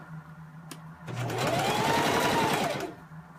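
A sewing machine runs in one steady burst of about two seconds, stitching the seam of an inside pocket, with quiet handling before and after.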